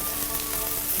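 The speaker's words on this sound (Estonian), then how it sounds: "praemuna võib siis praadida ühelt poolt, kahelt poolt" Eggs sizzling steadily in a frying pan for a man's sandwich, a dense continuous crackle of hot fat with no voices over it.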